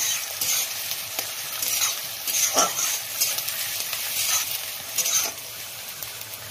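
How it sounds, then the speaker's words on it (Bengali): Sliced onions frying in hot oil until lightly browned but not crisp, giving a steady bright sizzle with repeated spatula scrapes and stirring strokes close by. "পেঁয়াজটা একটু লাল করে ভেজে নেব, মচমচে করে ভাজবো না।"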